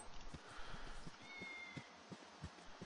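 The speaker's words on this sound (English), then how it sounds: "And there's the lazy ass cat there that didn't do a damn thing." A cat meows in the video game Baldur's Gate Enhanced Edition, a faint repeated mewing over quiet game ambience with soft rhythmic footstep-like taps.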